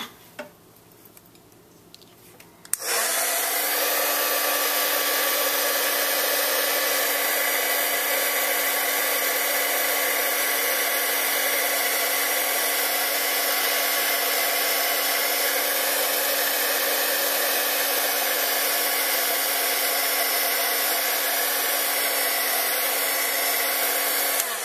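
A heat tool melts metallic embossing powder on an Art Deco birthday card, switching on after a few quiet seconds and blowing as a loud, steady whirring whine that holds unbroken to the end.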